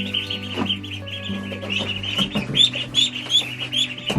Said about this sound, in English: Yeah, they're growing fast. I love ducklings.